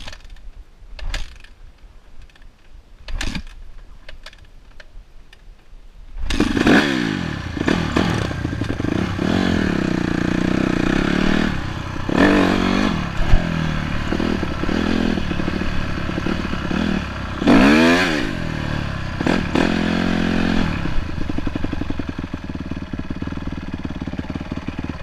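A motorcycle engine idles, then catches and runs loud and close, with repeated throttle revs rising and falling over a steady mechanical clatter.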